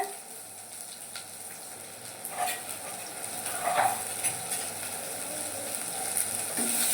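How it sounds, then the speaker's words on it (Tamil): Crushed small onions, about five, sizzle in hot sesame oil in a pan, a steady frying hiss rising as they are stirred, with soft utensil scrapes and clinks throughout. "நல்லா இடித்து வச்சுருக்கிற சின்ன வெங்காயம் நல்லா ஒரு அஞ்சு சின்ன வெங்காயம் இடித்து வச்சுருக்கிறது போட்டுக்கோங்க"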